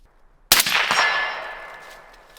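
A 5.56 AK rifle round strikes a steel target at the range with a single sharp metallic clang, and the ring decays slowly over about two seconds in otherwise quiet surroundings.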